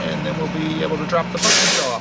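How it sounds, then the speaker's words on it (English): A truck pulls up at a fuel stop, engine rumbling close by before a loud hissing air brake release, while a person talks over it. "That was a truck pulling up here."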